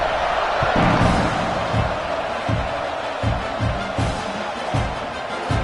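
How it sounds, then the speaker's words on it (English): Football stadium crowd at an LSU game, a broad steady roar of many voices buzzing after a score, with faint thuds and scattered cheers rising through the dense wash of noise. "this crowd is buzzing after that last score"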